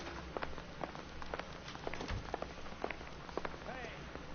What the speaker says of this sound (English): Raining at night.